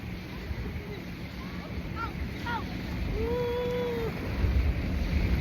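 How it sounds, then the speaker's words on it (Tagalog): Strong sea waves slap a small boat on a trip off Batangas, a low churning rumble of water and wind noise with passengers' voices and shouts rising over it, growing rougher toward the end. "Malakas yung alon."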